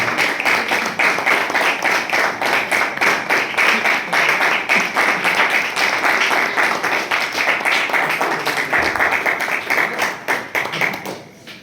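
An audience at a Hindi poetry gathering claps in a loud, rhythmic, steady beat that carries on for about eleven seconds before thinning out at the end.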